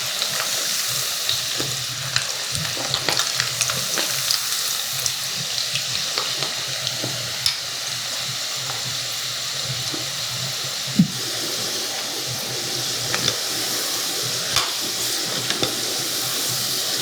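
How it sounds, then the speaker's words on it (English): Fresh-cut french fries crisp in hot oil in a pan, a steady dense sizzle running throughout with occasional sharper pops and clinks, fairly loud and close, with no talking. "So we're just getting a nice fast fry on here to crisp these babies up."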